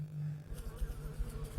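Insects buzzing in the video game Stasis, a low droning hum with pulsing wingbeat flutters, steady and fairly close, with no talking.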